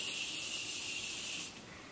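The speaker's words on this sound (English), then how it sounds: "The next thing I got is the Morphe Continuous Setting Spray." Morphe Continuous Setting Spray misting in one steady hiss lasting about a second and a half, close and fairly loud, then cutting off to quiet room noise.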